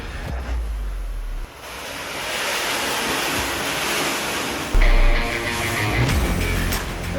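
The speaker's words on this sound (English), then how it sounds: "remember we're just using 1 vacuum motor" A carpet cleaning machine runs on a single vacuum motor, giving a steady, loud broadband roar of rushing air close to the microphone, with a sudden surge in pitch and volume partway through.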